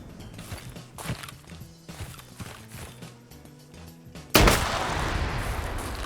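Grenades exploding short in an Arma 3 PvP battle: scattered gunfire and muffled blasts, then one sudden loud close explosion whose broad roar sustains to the end.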